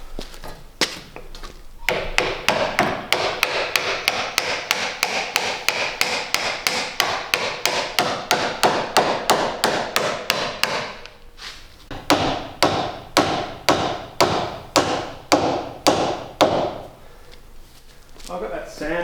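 A mid-weight hammer knocks rapidly and steadily on the wooden deck planking of a 41 ft wooden boat, a long run of crisp taps, a brief pause, then another burst, with a voice talking nearby.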